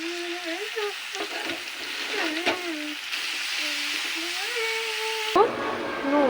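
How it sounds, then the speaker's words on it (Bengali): Cabbage sizzles as it goes into hot oil in a pan, cooking with fish head in a Bengali curry. A steady frying hiss sits under a woman's speech, and a louder burst of sizzling comes near the end. "এবার দিয়ে দেবো বাঁধাকপি।"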